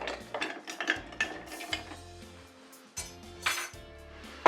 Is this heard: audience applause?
no